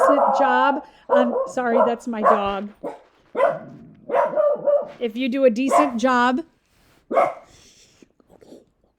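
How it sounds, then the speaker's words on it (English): A pet dog barks indoors at home, short yips cutting in while a person keeps lecturing over it. "sorry, that's my dog"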